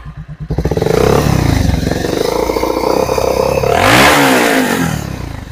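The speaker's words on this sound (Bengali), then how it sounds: "চলো ইঞ্জিনের আওয়াজ শোনাবো" A motorcycle at a Kolkata showroom kicks into life after a brief silence, idling with a close, throbbing clatter before a sharp rising rev near the end that then eases back down.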